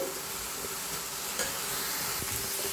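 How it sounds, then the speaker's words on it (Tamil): Drumstick leaves and egg sauté in a pan with a steady, close sizzle and occasional soft stirring scrapes, with no voices. "இப்போ வேகட்டும் இப்போ இப்படி வேகணும் பூ நல்லா வதங்கணும்"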